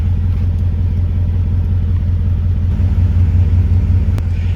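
Deep, steady exhaust rumble from a Mercedes G500 W463 G-wagon running through its factory muffler and pipe, a continuous low drone with a slight swell partway through and no voices.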